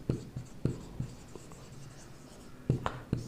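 Handwriting with a pen during a physics lesson on calorimetry and heat, giving a few scattered scratchy strokes and taps close by, with quiet gaps between them and no talk.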